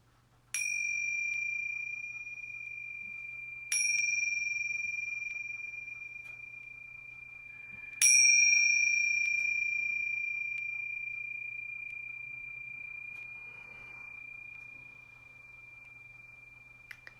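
Three meditation bells ring out one after another, each a clear, sustained ding that rings on and slowly fades, spaced a few seconds apart over a low, quiet hum.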